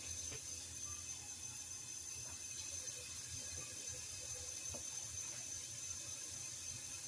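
Tap water runs steadily into a cooking pot at a kitchen sink for ramen noodle soup, a continuous low, even rush with faint clinks, no voices.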